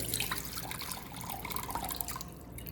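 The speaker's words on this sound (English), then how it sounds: "I'll start by mixing the water and vinegar together." Water and white vinegar being mixed in a bowl to poach eggs, heard as steady close liquid sloshing and dripping with light splashes, continuous and fairly quiet, with no talking.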